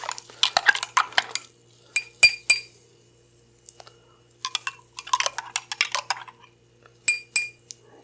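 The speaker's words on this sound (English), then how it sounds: "gotta stir it a little bit more. Some rogue honey hiding at the bottom there." Honey soda being stirred in a glass to dissolve honey settled at the bottom: bursts of clinking as a spoon taps around the glass, in quick clustered runs separated by short pauses, fairly close.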